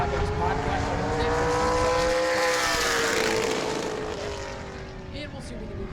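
Super late model race car on a warm-up lap during qualifying at New Smyrna, its engine drone loud and steady with rising and falling pitch as it passes, fading slightly toward the end.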